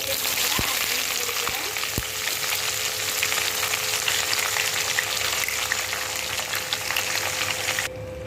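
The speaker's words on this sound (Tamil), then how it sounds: "வெங்காயம் நல்லா ஓரளவுக்கு வதங்கிடுச்சு" Onions frying in hot oil for beetroot rice, a loud continuous sizzle and crackle heard close up, with a few sharp clicks early on and a faint hum underneath.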